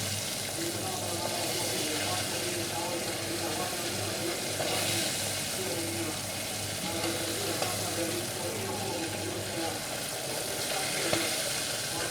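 Fish frying in oil, a steady broadband sizzle with light crackling that continues evenly throughout, with a voice talking faintly underneath at times.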